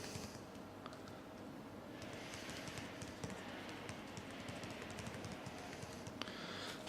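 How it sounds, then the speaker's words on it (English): Soft, quiet tapping on a Microsoft Surface RT touch cover keyboard in an uneven typing rhythm, faint and close, with no voices. "it's pretty easy to get used to typing with the touch cover"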